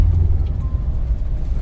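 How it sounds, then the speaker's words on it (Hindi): A Mahindra Thar climbing a hill road near Manali, its engine a loud, steady low rumble close by with no talk. "ले थार कर दे चढ़ाई"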